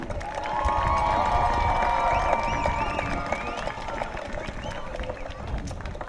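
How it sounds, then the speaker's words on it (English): A crowd at a youth football game between the Lytle Pirates and Natalia Mustangs claps and cheers steadily for both head coaches, a broad, sustained wash of applause with a few shouts rising above it. "A round of applause for both head coaches."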